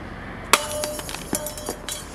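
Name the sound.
glass shattering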